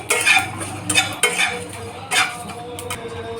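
Sesame seeds, coriander, cinnamon, bay leaf and onion being dry-roasted and stirred in a pan: repeated scraping strokes of a spatula against metal, close and fairly loud, over a faint sizzle.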